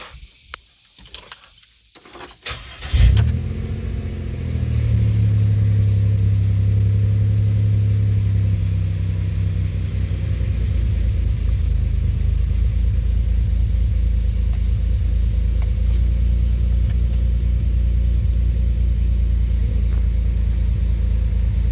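A 2007 Pontiac Grand Prix supercharged engine, fitted with a new supercharger gasket, cranks with a few keys-and-starter clicks, then catches and settles into a loud, steady, deep idle close by, with a slight rev early on and no talking.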